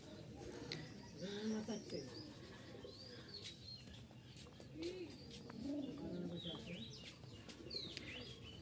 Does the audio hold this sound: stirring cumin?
no